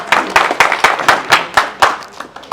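A crowd at a village gathering claps in an even, brisk rhythm, loud and close, with about ten distinct claps in a short burst.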